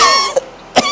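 A voice breaks into a couple of short, harsh coughs, close and loud, within about a second.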